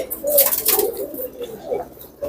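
Pigeons coo in a loft holding around 250 birds, mixed with racing and Pakistani Teddy highflyer pigeons, several soft overlapping coos rising and falling close by, with no talking.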